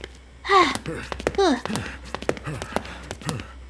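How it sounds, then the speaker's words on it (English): Breathy panting from a man in a horror video game (Spirit Hunter: Death Mark II), heard as a few short, heavy gasps and sighs in the background amid soft taps and faint talk. "I like the guy panting in the background"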